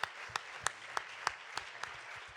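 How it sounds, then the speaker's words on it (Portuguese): A church congregation at a Santa Ceia communion service applauds, with scattered, fairly distant claps landing at a loose, regular rhythm for a couple of seconds. "Damos um aplauso ao Senhor pela vida deste homem de Deus."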